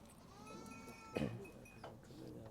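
A single short goat bleat rises clearly in the middle of a goat market, with a faint second call after, over quiet background noise.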